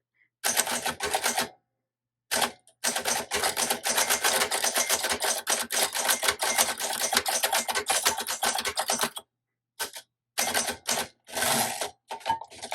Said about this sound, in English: I can type fairly quickly on here